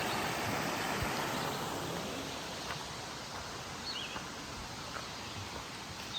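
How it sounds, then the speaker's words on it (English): A small river flowing near a trail campsite on the Appalachian Trail in Pennsylvania gives a steady, soft, even rush of water throughout, fairly faint and unbroken, with no voices. "We have a nice little river down here."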